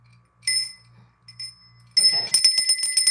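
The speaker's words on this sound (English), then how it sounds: "my bell's gonna make me upset" A bell rings close and loud, first a few brief bright dings over a low hum, then a rapid burst of repeated rings that carries on to the end.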